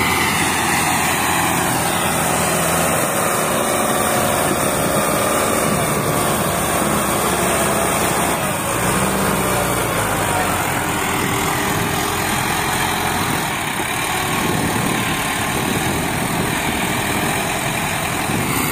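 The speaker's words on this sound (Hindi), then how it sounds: "सोनालिका DI 750" Sonalika DI 750 tractor engine hauling a fully loaded trolley, a loud, continuous diesel rumble with a steady low throb that shifts slightly in tone midway, heard close for the whole stretch.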